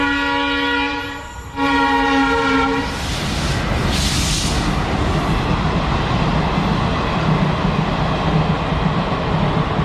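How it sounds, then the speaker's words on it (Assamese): A train sounds a loud horn, then rumbles steadily away from Tihu railway station in Assam, the rolling clatter filling the rest of the clip at close range. "ট্ৰেইনখনো গৈছে পুৰা টাইমত একদম ন টাইমিং"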